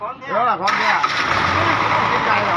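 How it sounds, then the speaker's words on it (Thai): A car engine cranking and catching after being moved a long distance, loud and close, then settling into a steady rough idle while someone speaks over the start. "มาฟังเสียงเครื่องนะครับเอ้า ติดไหม"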